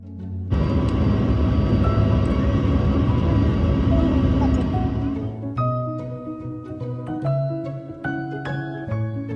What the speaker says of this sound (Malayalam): അങ്ങനെ ഞങ്ങളെ ഫ്ലൈറ്റ് എടുത്തു.